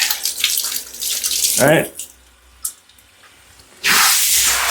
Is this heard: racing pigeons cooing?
no